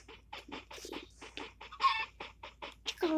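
Chickens cluck in a quick series of short, fairly close calls, with one louder squawk near the end and no talking.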